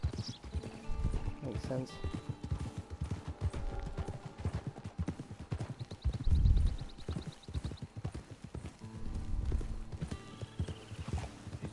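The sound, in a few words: horse hooves clip-clopping, from a video game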